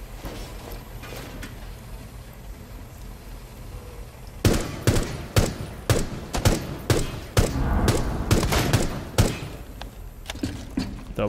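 Gunfire in the video game Rainbow Six Siege: after a stretch of muffled ambience, a rapid series of sharp, loud shots sounds, close and irregular, with a few more bursts near the end.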